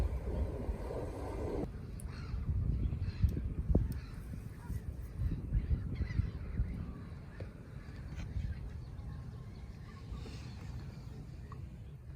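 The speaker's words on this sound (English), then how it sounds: "Eider ducks and geese." Geese honk repeatedly among eider ducks, their calls coming in irregular bursts over a busy outdoor background of low rumble, with faint voices now and then.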